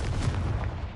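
A Confringo fire spell blasts in Hogwarts Legacy, a loud, booming burst with a rumbling low roar that fills the whole second and fades only slightly, with no voices over it.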